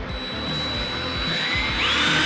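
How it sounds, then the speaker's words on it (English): A power drill fitted with a 1/8-inch cobalt-grade bit bores through metal on a motorcycle tour pak, a continuous whining motor with a grinding edge that holds steady and rises slightly toward the end. "So this is a 1/8 drill bit, and it's a cobalt grade"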